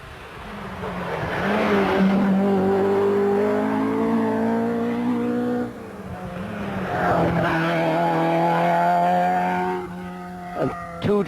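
Ford Escort rally cars at the 1984 Cork 20 Rally roar past one after another in close succession, engines rising and falling loudly as each passes near, then fading, with a brief sharp noise near the end.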